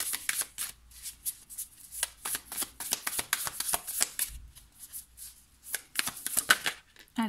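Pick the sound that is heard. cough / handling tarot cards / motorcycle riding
handling tarot cards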